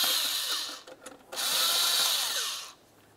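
A power tool loosens an 8mm clamp at the air box by the throttle body of a 1994-2002 Dodge Ram 2500, a close, loud whirring buzz in two bursts separated by a brief pause, then stopping.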